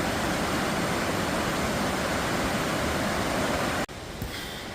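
A roaring waterfall on a cold, rainy November outing, a steady, dense, loud wash of falling water that runs unbroken and then cuts off abruptly near the end, with no voices.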